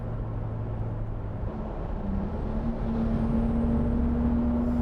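A 2022 Ford Bronco Raptor's engine drones steadily while driving on paddle-shifted gears, a low continuous rumble with a rising tonal whine near the end, heard from inside the cabin with no talking.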